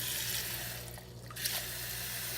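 A steady, faint rush of water pours continuously into cake batter, one cup, with a brief dip in the middle before the flow resumes.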